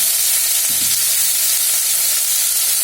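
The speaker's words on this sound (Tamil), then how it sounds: "கருவேப்பிலையை போட்டுடலாம்." Curry leaves fry in hot oil for Thanjavur-style sambar, a steady broadband sizzle and hiss running unbroken throughout at moderate loudness, with no voices.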